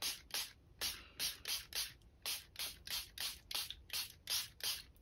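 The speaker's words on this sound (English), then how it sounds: "I'm just going to go ahead and start spraying everything" Water spritzed from a hand mister onto watercolor paper, a quick run of about fifteen short, soft hissing sprays in an uneven rhythm, close and quiet with no talking.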